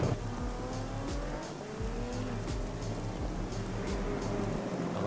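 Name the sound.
race cars accelerating out of corner in video game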